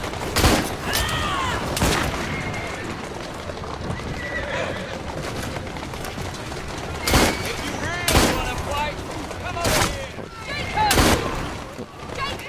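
Sharp gunshots in Assassin's Creed Syndicate ring out as several loud, separate cracks spaced across the scene, mixed with horse neighs, clip-clopping hooves and a busy game backdrop, with someone talking over it.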